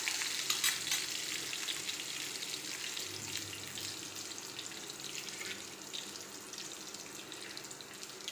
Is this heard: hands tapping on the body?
no